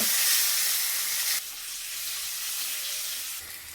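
Papaya pieces frying in hot oil in a pan give a steady, close sizzle that drops a little in loudness partway through and then carries on evenly, with no talking.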